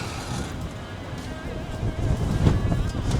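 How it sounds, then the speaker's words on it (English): Strong wind buffets a microphone outdoors on the water while an off-the-grid solar-powered pond aeration setup is placed, a constant low rumble and roar that swells louder toward the end. "It's a really windy SOB out here"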